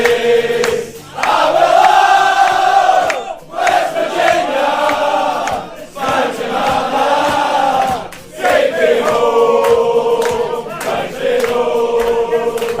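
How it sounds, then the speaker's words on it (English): Scottish football fans singing together in a Boston bar, a loud massed chorus of voices in sustained phrases with brief breaks between lines. "They also have taken over Boston bars, singing some of our favorite American songs."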